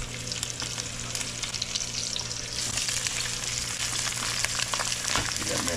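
Sausage sizzles and fries steadily in a hot pan alongside chicken, a constant close crackle with occasional stirring scrapes and a brief clatter near the end.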